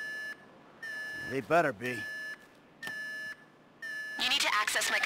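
A tripped alarm in a Grand Theft Auto V heist gives repeated loud electronic beeps in on-off bursts, with someone speaking briefly between them and more voices near the end.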